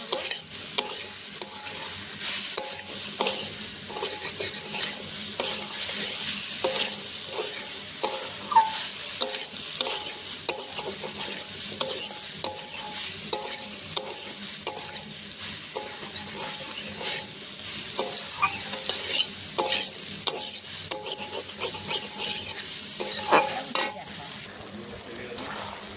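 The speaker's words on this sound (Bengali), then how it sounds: "মশলার সঙ্গে এখন সবজিটা ভালো করে কষিয়ে নেব।" Mixed vegetables sauté with spices in oil, sizzling steadily while a spoon scrapes and clinks against the pan in a quick rhythm throughout.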